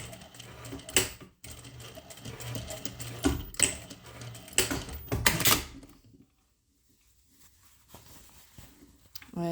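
Sewing machine stitching a small triangle on a kids' chef hat, with rapid mechanical chatter in several close bursts, then near silence and a faint resumption.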